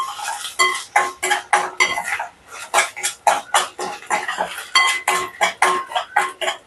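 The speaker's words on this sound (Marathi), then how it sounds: "आता हिचा थोडा पाना दूर उसपर्यंत तिला चांगलं परतून घ्यायचे कच्चा पाना पूर्ण गेला पाहिजे" Spoon scraping and clinking against a cooking pan while ginger garlic paste is stirred and sautéed, a rapid rhythmic series of close metallic scrapes and taps with brief pauses.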